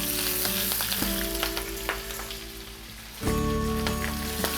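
Garlic, red chilies and chard frying in a pan, a loud, steady sizzle with crackles and pops that surges again as more greens hit the hot oil.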